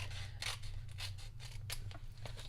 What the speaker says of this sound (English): So I'm just going to cut a little rectangle about the same size as my piece of